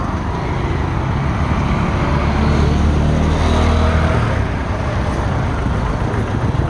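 Vehicles idle and crawl in a traffic jam on the Pabna highway at Maligachha after a serious accident, a loud, continuous low roadway rumble and engine drone close by, with no break.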